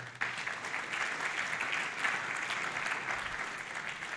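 Applause fills a conference hall, a dense, steady wash of many hands clapping from a large audience that continues evenly without break and then cuts off.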